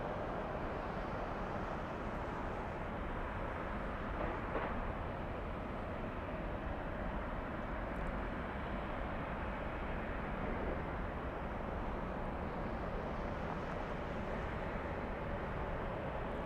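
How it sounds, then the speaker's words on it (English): Steady, broad jet engine roar from an airplane taking off at Los Angeles LAX airport, a constant distant rumble holding level from start to end with no talk. "Very pretty takeoff."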